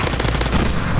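Rapid automatic gunfire in a commando combat video game, a fast burst of sharp shots for about half a second that then gives way to a lingering rumbling tail, loud with no voices.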